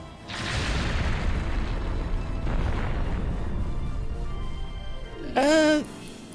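A fire-magic hit-all attack, Fire 2, goes off in an RPG Maker game as a long rumbling blast of noise. It is followed near the end by a sharp rising and falling tonal sweep.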